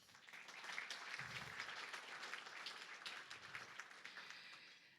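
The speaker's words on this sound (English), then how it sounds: "let's give them a round of applause, please, as well" Audience applause for conference volunteers at an agriculture AI event, a steady wash of clapping lasting several seconds, fairly quiet and distant-sounding, with no talking over it.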